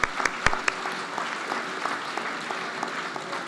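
Graduation audience applauding for about three seconds, with a few sharp nearby claps standing out over a steady patter of hands that fades slightly toward the end.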